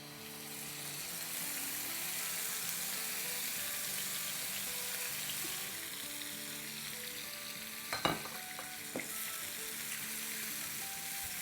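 Chicken sizzles in a tablespoon of oil in a hot frying pan with sautéed garlic, a steady close frying hiss throughout. Clattering stirring knocks come near the end, with no talking.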